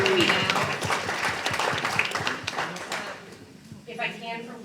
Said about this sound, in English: can you have a round of applause for you for showing up tonight